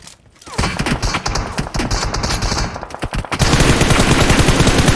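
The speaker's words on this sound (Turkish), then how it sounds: "Çok vurdum ona çok vurdum." Loud, rapid automatic gunfire from the mobile battle royale game PUBG Mobile rattles in dense bursts, growing into a continuous heavy barrage near the end, close and dominant with no talk over it.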